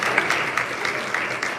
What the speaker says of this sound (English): how about we give a nice round of applause to all the folks who help us make us look pretty and sound good